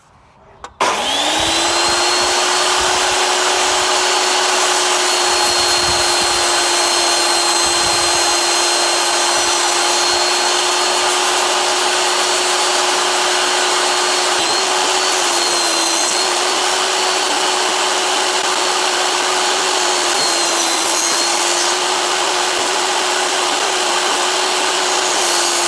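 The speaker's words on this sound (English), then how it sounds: "I'm going to drill into that at this angle" A power drill bores into wood at an angle while a simple wooden phone stand is being built, giving a loud, steady motor whine that holds for a long stretch with only slight dips in pitch.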